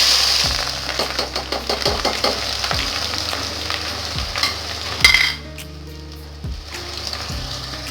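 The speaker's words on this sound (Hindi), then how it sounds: "इसमें डाल दूंगी प्याज" Chopped onions frying in hot cooking oil for beef bhuna, stirred with a spoon: a steady close sizzle broken by regular scraping strokes, dropping to a softer sizzle after a brief clatter partway through.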